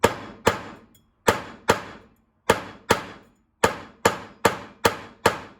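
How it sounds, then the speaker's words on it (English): Hammer striking metal on a barbell or dumbbell used as a hard surface, to flatten something: eleven sharp, ringing blows, close and loud, some in quick pairs and separated by short pauses, with no talk. "I don't want to hammer right on my table. I don't want to hammer on wood. I need something hard."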